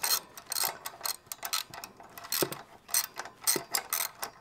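A ratchet tightens the bolts on an aftermarket exhaust header, giving rapid clicking bursts in an uneven rhythm with brief pauses between strokes, close and fairly loud, with no talk.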